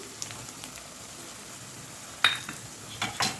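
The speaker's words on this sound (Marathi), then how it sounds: "शेंगदाणे टाकल्यापासून दोन मिनिट आपण कमी गॅस करून याला मस्त फ्राय करून घ्यायचे" Coarsely ground peanuts fry in hot oil with turmeric over low heat, producing a soft steady sizzle, with a few brief scraping clinks of stirring near the end.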